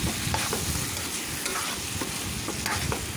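A ladle stirs a potato and tomato curry as it cooks in a pan, with a gentle sizzle under irregular scraping and clattering strokes, close and fairly quiet.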